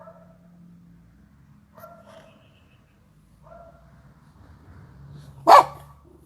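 Faint household sounds and low murmuring give way to a single sharp dog bark near the end, loud and close.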